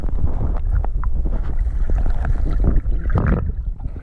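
Choppy water slaps and churns on a windy lake mere while pike fishing, with steady wind buffeting the microphone in a loud, continuous roar.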